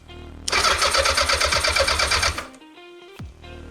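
A 750 motorcycle engine with empty carburettors cranks and catches, then runs in a loud, rapid, uneven chatter for about two seconds before cutting out, leaving a quieter mechanical whine and faint clicks.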